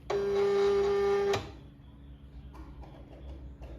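A pink Silhouette Cameo 4 cutting machine whirs with a steady motorized hum for over a second as it tries to feed the cutting mat, then stops abruptly, leaving faint clicks and light handling noise.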